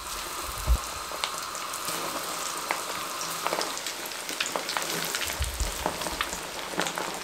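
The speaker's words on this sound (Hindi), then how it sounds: "1 मिनट तक इस तरह कुक होने देंगे मीडियम फ्लेम पे।" Chicken drumsticks fry in hot oil over a medium flame, a steady close crackling sizzle with scattered pops and a couple of low thumps, no voices.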